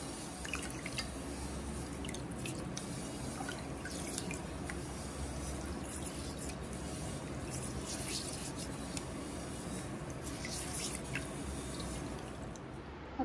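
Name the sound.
finger millet (ragi) being washed in water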